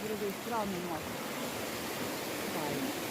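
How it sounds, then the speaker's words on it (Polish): Waterfall and rushing water beneath a small footbridge on a hiking trail near Grudziądz, a steady broadband roar with someone talking faintly over it at the start. "A tutaj tutaj robi wrażenie ta woda ten wodospad"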